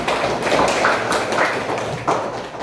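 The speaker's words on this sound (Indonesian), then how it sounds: "Tepuk tangan untuk kita semua." Schoolchildren in a classroom applauding together at the end of a lesson, a loose, uneven patter of hand claps with a few sharper bursts, moderately near and without speech.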